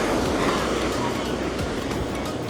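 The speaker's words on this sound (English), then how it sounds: "The waves look a bit hectic there." Ocean waves wash onto a small cozy beach on the Algarve coast at Praia da Marinha, a steady, dense rush of surf with some wind noise across the microphone.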